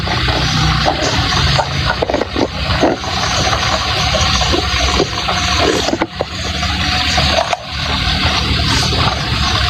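Water splashes and rushes steadily as a pygmy hippo is bathed at a zoo. The loud, continuous gushing and sloshing is close by, with occasional knocks and scrapes through it.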